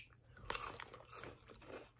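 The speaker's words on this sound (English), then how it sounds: "The crunch on these is so good." Crunchy, weightless onion-ring-style snack from a discount dollar store being chewed close up, with a sharp loud bite and a series of softer crisp crunches that follow, and no talking.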